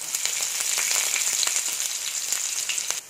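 Steady, close sizzling and crackling of garlic and ginger frying in a hot pan for soya Manchurian, continuous with small pops throughout, no voices.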